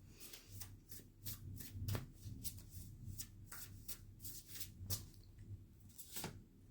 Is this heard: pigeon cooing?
no